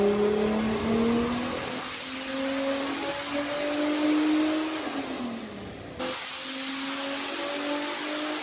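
A Vauxhall Corsa C fitted with a turbocharged V6 revs hard, rising and falling through two loud, close revs with a whining turbo tone and a brief drop between them.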